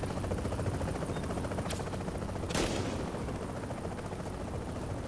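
Gunfire in a video game, dense continuous rattling bursts under a constant loud wash of noise, with a couple of sharper cracks standing out near the middle.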